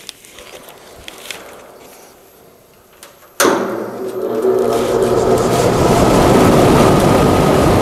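Large bandsaw cutting the sides off a wooden hammer handle; a quiet shop gives way to a sudden loud, sustained broadband roar that holds steady to the end.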